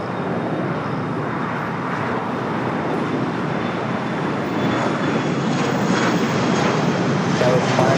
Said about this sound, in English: Qantas making that turn on to Kilo.